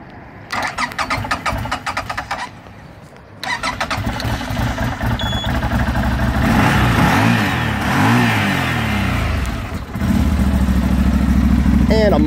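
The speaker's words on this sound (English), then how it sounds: "let's crank this thing up here and see what she sounds like." A 2019 CF Moto C Force 800 ATV engine cranks over and catches, then idles and revs up with a mild exhaust note, close and loud, with a brief pause between start attempts.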